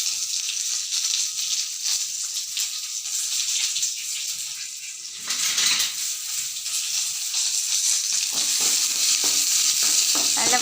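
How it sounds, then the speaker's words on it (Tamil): Small onions and garlic sauté in sesame oil, giving a continuous bright sizzle that swells after a brief dip midway, with faint stirring clatter and no talk. "இதை நல்லா நல்லெண்ணெய் ஊற்றிட்டு நல்லா வதக்கிக்கோங்க"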